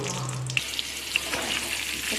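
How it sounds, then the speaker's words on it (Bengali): Potatoes go into hot oil left from frying chicken for Bengali beresta chicken, producing a brief burst of close, steady sizzling with a few small pops. "তেলের মধ্যে আমি এখন দিয়ে দেবো আলু"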